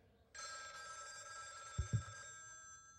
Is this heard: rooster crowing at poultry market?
no